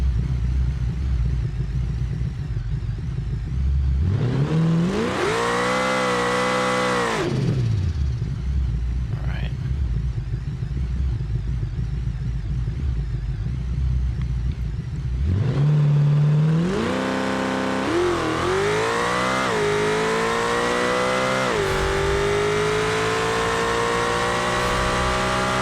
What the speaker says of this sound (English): let's go ahead and get a little burnout going here as well